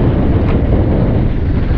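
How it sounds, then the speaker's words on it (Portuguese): Strong wind blowing across a microphone outdoors on a coastal island, a loud, steady roaring rumble that fills the whole moment without letup and with no voices. "Nossa, que vento, hein?"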